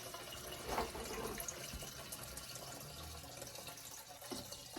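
Water drains and trickles out of a soaked RC tire after it is lifted from a bath, a faint, steady, close dribbling and dripping with no speech.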